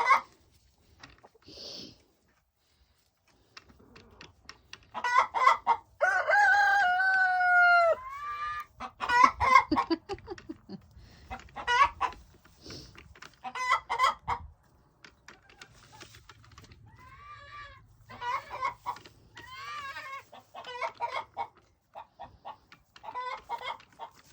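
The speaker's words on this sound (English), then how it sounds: "Doing their little chicken thing." Backyard chickens cluck in bursts with a rooster crowing nearby, irregular close calls alternating with short quiet gaps over a faint low hum.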